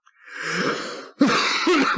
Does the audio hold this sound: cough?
yes